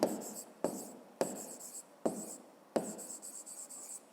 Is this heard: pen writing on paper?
yes